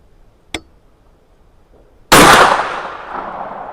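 A .410 shotgun fires a slug made from a 7.62x25 Tokarev case outdoors: one loud close blast with a ringing decay, preceded by a small sharp click.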